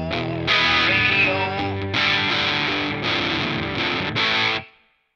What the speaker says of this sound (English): this is a song I've always wanted to do with a megaphone effect